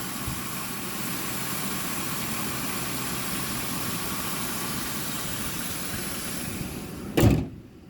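A warmed-up 2004 Crown Victoria LX Sport idles with a steady, even engine hum, then a single sharp thump cuts in near the end.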